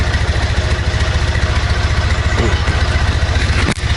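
A Triumph Bonneville motorcycle with its engine warning light on idles loudly close by, a steady low throbbing pulse that runs evenly throughout, with a brief knock near the end and no talking.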